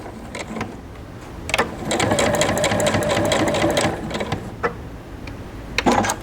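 A sewing machine stitches cotton piping cord into a basket. Short bursts of stitching give way to a sustained mechanical whirr of rapid needle strokes, then it stops with a few soft handling clicks. It sounds close and moderately loud, with no speech.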